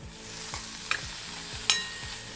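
Pieces of banana stem cook in a pan under a soft, steady sizzle, with a few light scraping stirs and small taps of the spoon close by.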